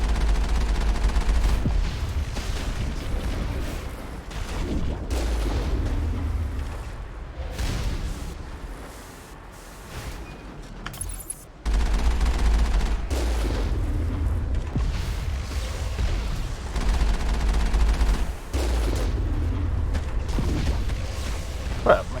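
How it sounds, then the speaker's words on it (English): Gunfire in Mass Effect, rapid bursts and booming impacts mixed with mechanical clanks and creaks, loud with a brief lull midway before the shooting resumes. "I'm basically shooting up into the sky."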